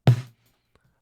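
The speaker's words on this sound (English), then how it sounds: "Ah, there's that fat snare drum." Snare drum captured by a top mic: a single fat, punchy hit with a short ringing body decaying within a third of a second, heard alone.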